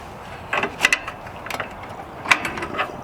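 A 5mm Allen wrench turning a bolt on a Jeep Wrangler fender during a flat fender install gives short metallic clicks and scrapes in small bursts, close and fairly clear.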